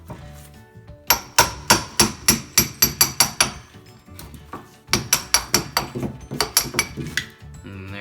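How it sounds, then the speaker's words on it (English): A metal chisel struck repeatedly with a hammer to pry off door trim, sharp ringing blows in two fast bursts of about a dozen hits each, with a short pause between them. "So let's try taking this off with a chisel"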